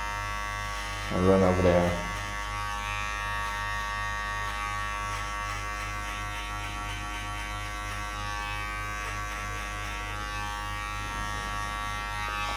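Electric hair clippers fitted with a number 2 guard, lever fully open, buzz steadily through a girl's skin fade, with a brief louder burst near the start as they cut in. A voice speaks briefly over the hum.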